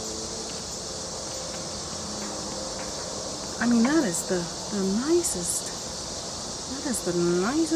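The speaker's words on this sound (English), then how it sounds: "Sorry about the bugs in the background. That's the cicadas. They're making all kind of racket." Cicadas drone in the background outdoors, a continuous high, loud buzzing that runs the whole time while a person speaks over it for the second half.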